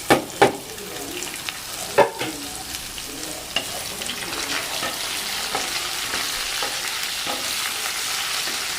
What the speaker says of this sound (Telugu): ఇందులో ఉల్లిపాయ ముక్కలు కూడా వేసేస్తున్నాను. అవి కలిపి వేగుతాయి.